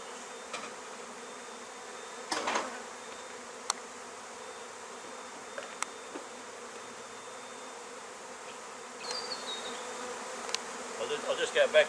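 Honey bees buzzing around beehives and nucleus colonies outdoors, a steady faint drone with occasional closer buzzing passes and a few light knocks.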